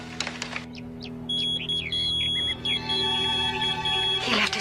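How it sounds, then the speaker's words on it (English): A pager beeper goes off indoors with a thin, high electronic beeping that repeats in a quick pattern for a few seconds, following some brief rustling and a short quiet gap. "He left his beeper here."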